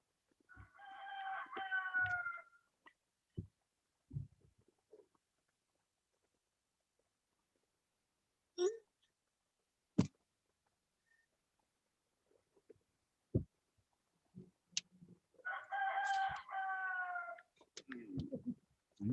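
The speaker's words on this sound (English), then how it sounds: "That's my rooster." A pet rooster crows twice, well apart, each a loud, harmonic cock-a-doodle-doo heard from indoors, with scattered sharp clicks and knocks between the calls in an otherwise quiet room.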